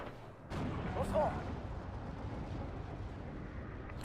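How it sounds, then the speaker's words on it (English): Bombing-strike explosions in the WWII strategy game Steel Division: Normandy 44, landing on a Churchill tank: a distant thump, then a low, rumbling blast that fades into steady battlefield noise, all fairly faint. "Bombing strikes come down on top of the Churchill 5 there"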